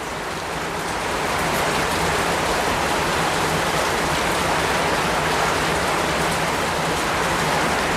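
Rain falls on a rural Bangladeshi home as a dense, constant wash of patter that holds at a loud, even level throughout, with no voices.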